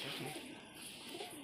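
Domestic flying pigeons at a bird seller's loft cooing softly, a faint low murmuring coo under a noisy background.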